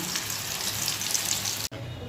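Bengali lentil cakes (dhoka) sizzle and crackle steadily in hot oil in a wok, a close, even hiss that cuts out briefly just before the end.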